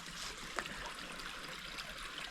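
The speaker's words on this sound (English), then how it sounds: "Yeah, creek has water in it, as you could tell." Vermont creek running on a late-November day after a dry summer, a soft, steady wash of flowing water heard from a short distance, faint and even with no voices.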